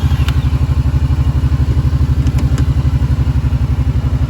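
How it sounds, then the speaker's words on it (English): 2021 Kawasaki Brute Force 750 EPS 4x4 ATV engine idling close by, a steady fast rhythmic thumping putter with a few faint clicks over it and no talk. "I'm gonna go ahead and start this up, let you guys hear what the engine sounds like."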